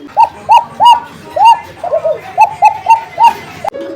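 Pigeons kept by a seller coo in a steady run of about ten rounded, repeated calls, close and clear with no talking over them.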